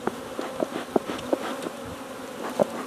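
Honeybees buzz during a hive inspection in a series of short, close buzzing bursts as individual bees fly past, over a faint steady background hum.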